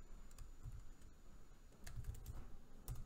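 Code is typed on a computer keyboard in quiet, close bursts of key clicks over a low background hum.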